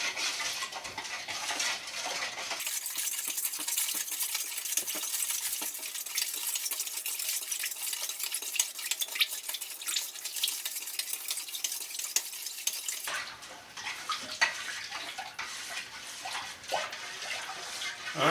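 Brine mix being stirred in cold water to dissolve, a steady watery swishing and churning that runs continuously and close, with a brief pause near the start and end.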